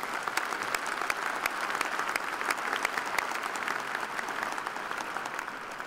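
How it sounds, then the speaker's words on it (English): Audience applause for special guests at a 2017 fall commencement ceremony: a large hall of steady clapping with individual sharp claps standing out, moderately distant and even in level throughout. "let's give all of our special guests a round of applause as well"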